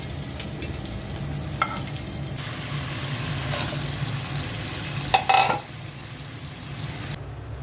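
Hilsa fish frying crisp in oil in a pan, a steady close sizzle running throughout, with a few sharper spits and crackles partway through before the hiss settles; no talking.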